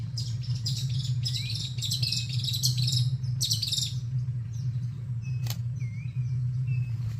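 Birds chirp and whistle along a tidal creek where white, blue-breasted and woodland kingfishers live, giving scattered bright calls in short clusters over a constant low engine hum from a boat.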